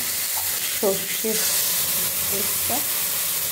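Mustard and green chilli paste frying with turmeric and Kashmiri chilli powder in a pan for a vegetarian okra dish, a steady close broadband sizzle with faint stirring and brief vocal traces in the background.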